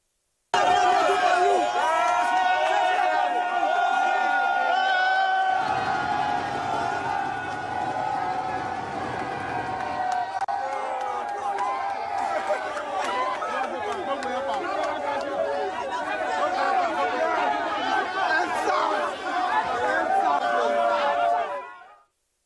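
Protest crowd in Abuja gathered around a traffic warden, a dense, continuous wash of many overlapping voices chattering and calling out close by, with a sharper burst of shouting midway and steady crowd noise to the end.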